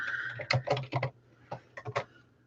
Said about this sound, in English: I'll be typing as we go.